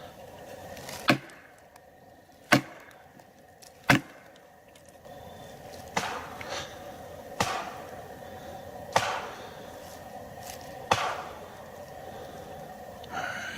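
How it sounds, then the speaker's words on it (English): Seven sharp, hollow knocks on a tree trunk ring out in the Appalachian woods at uneven intervals against a quiet night background. "I'm gonna try one last thing, tree knock."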